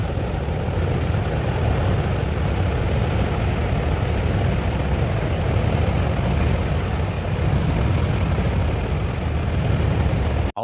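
A propeller airplane drones loud and steady for about ten seconds, its broad engine roar constant and alone with no voices.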